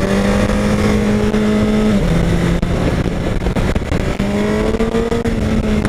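Honda CBR 1000 RR Fireblade engine on the Interlagos circuit, loud and steady near at hand, holding a high drone with a brief dip in pitch around two seconds before climbing again, with no talk over it.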